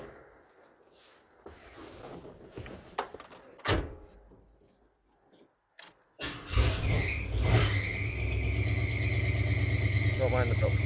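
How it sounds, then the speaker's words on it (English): A cold AMC Matador engine cranks after some door clunks and knocks, then catches and settles into a loud, steady idle with a high belt squeal riding over it. No one speaks. "Don't mind the belt squeal again."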